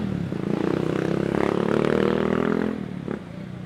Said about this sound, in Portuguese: Senão ele fica acelerando, a moto atrapalha o vídeo.